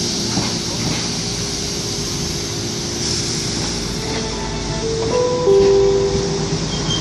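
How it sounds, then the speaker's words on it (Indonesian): A KAIS Merbabu service train rolls into Jatinegara station with a steady loud rumble and hiss, with sustained squealing tones rising near the end as it slows. "jalur 2 akan dipersiapkan masuk kereta api dinas"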